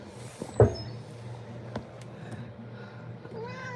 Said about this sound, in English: The cat is on GABA, so he's more, has a mournful meow